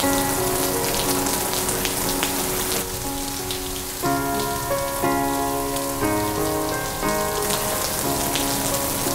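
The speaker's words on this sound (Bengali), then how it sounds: "বৃষ্টি থামতে মনে হচ্ছে অনেক সময় লাগবে।" Heavy nighttime rain falls in a continuous loud wash of drops, joined by gentle sustained musical notes throughout.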